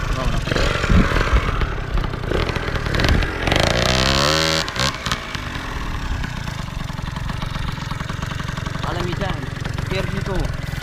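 A Yamaha Booster 70cc two-stroke scooter engine revs continuously and loudly up close during wheelie stunt practice, with rising and falling throttle sweeps and a raspy exhaust note throughout.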